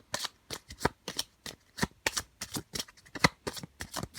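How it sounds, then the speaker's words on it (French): Tarot cards are handled and drawn from a deck, producing a fast, regular run of crisp card snaps and flicks, close up and fairly quiet, with no talking. "je vais déposer nos cartes ici, je vais en prendre"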